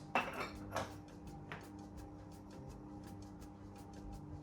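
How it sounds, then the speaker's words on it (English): Melted chocolate, butter and salt being stirred in a mixing bowl, with a couple of sharp utensil clinks against the bowl early on, then softer continuous scraping and stirring at close range. "we're going to mix together the melted chocolate"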